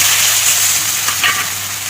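Chopped onions hit hot oil with whole cumin, bay leaf, cardamom, cloves and cinnamon for a spicy red chicken curry. A loud, close frying hiss swells briefly as they land, with no voices.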